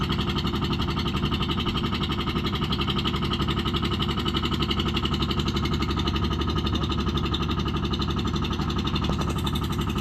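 A large engine runs steadily and loudly up close for the whole stretch, with a dense, rumbling, rapidly pulsing drone and no talk over it.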